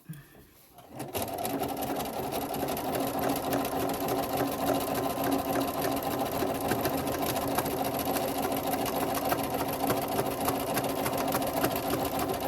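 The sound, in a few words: sewing machine zigzag stitching tee-shirt diaper layers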